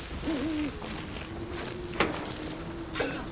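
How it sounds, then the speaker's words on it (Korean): An owl hoots a few times at close range in a quiet outdoor setting, soft repeated calls over low background rustle, with a couple of sharp thumps or steps. "부엉이야 부엉이야 부엉이야"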